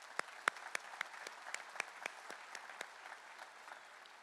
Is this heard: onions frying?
no